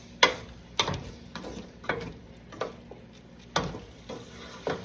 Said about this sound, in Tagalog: igisa na natin tong hipon.